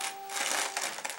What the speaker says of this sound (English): come, pull the paper.